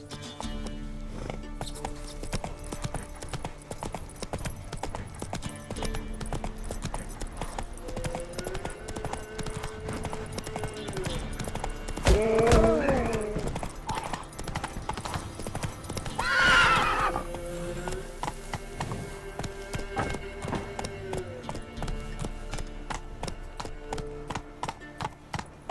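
Roach, the horse in The Witcher 3: Wild Hunt, gallops with a steady rapid clip-clop of hooves and lets out two loud whinnies midway, close and clear over game ambience.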